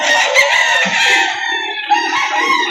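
A rooster at a chicken market in Lipa City, Batangas crows loudly and close, with clucking from other fowl and busy market background noise.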